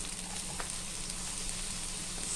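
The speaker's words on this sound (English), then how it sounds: "we will start frying the garlic, the onion first" Onions and garlic frying in a pan, a soft, steady sizzle and crackle close by, continuous and fairly quiet with no talk.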